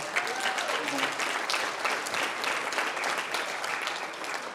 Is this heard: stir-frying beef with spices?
no